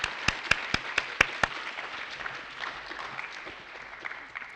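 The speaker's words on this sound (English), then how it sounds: "round of applause." A few sharp, distinct claps ring out in the first second, then a softer spread of applause from a room of students at a symposium lecture, fading toward the end.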